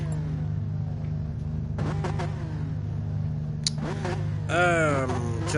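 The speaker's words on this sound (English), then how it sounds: "Revving his engine." A race car in a GT4 racing video game revs its engine in a few rising, wavering bursts over a steady low hum, close and moderately loud, with no talking.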